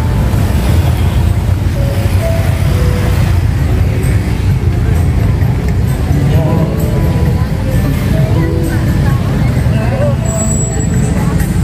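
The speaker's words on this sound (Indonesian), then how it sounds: "Jadilah itu macet deh." Dense traffic jam on Malioboro street in Yogyakarta, with a steady roar of engines and crowd babble close by throughout, and voices talking over the din.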